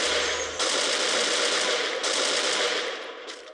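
Continuous rapid gunfire in a shooting video game, loud and dense with brief changes in intensity, fading near the end, no talking.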